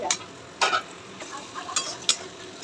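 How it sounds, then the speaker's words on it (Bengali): Mutton with chili and cumin powders is stirred in a frying pan, a soft sizzle underneath with several scraping, clinking strokes of the spoon at irregular intervals, close and clear with no talking. "এবার একটু নাড়াচাড়া দিয়ে দেবো।"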